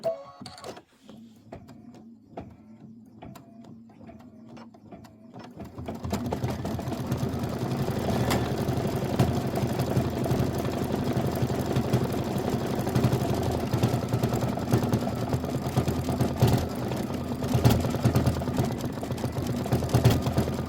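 A sewing machine needle stitches through thick material for a quilted pillow, opening with a few quiet clicks before a steady, close mechanical whirr starts and runs continuously to the end.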